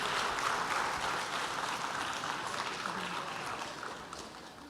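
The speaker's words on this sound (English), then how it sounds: "please give them a big round of applause as they are walking on the stage" A hall audience at an annual function gives a round of applause as guests walk onto the stage, a dense, fairly distant clapping that holds steady, then fades slightly.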